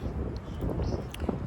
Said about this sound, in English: it's so windy out here, y'all